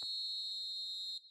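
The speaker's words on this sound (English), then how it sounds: "And there is the half-time whistle" A referee's single long, shrill half-time whistle at a football match, loud and steady for over a second before cutting off abruptly, with no talk over it.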